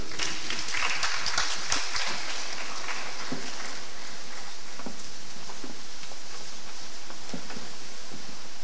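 Sustained audience applause fills a convocation hall at a university graduation, a dense, even wash of many hands clapping that stays loud for the full stretch, thinning slightly toward the end.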